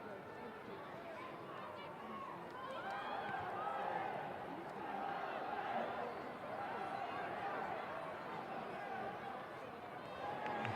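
A large football crowd at St James's Park during a Newcastle United v Sunderland women's WSL 2 match, a steady roar of murmur and chatter filling the whole stretch at moderate level.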